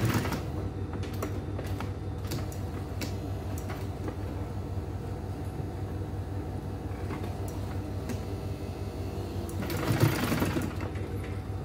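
A sewing machine top-stitches a purse with a card slot, running in a fast, even mechanical rattle for several seconds. The sound is close and steady, and a brief scrape near the end breaks it.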